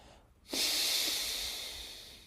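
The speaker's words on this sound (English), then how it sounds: "Very slow, very, very controlled exhale." A slow, controlled exhale during a breathing exercise, heard as a steady breathy hiss that starts abruptly and fades gradually over about two seconds, close and alone.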